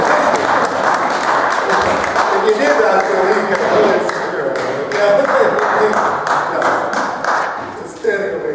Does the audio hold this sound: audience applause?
yes